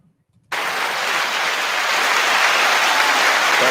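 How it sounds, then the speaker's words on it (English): A sudden burst of crowd applause plays as a sound effect on a talk show, starting abruptly from silence and holding as a dense, even wash of clapping that resembles rain. "Oh, can you hear the applause?"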